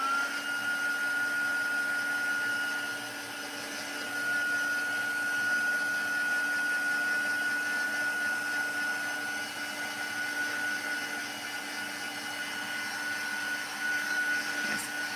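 Loud, steady whine of a high-velocity dryer blowing air while a dog is dried off, a continuous droning hum with a sustained high tone and slight shifts in intensity.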